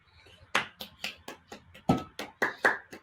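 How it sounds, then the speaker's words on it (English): Hands clap after a talk, about nine quick, fairly faint claps from a single person close by, with no other sound between them. "Audible clapping"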